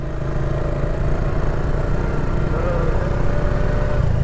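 A motorcycle engine labours in deep beach sand at Parki Beach, Chattogram, a loud continuous drone that strains steadily and never settles into a clean idle.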